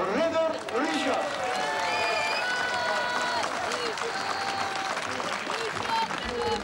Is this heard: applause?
yes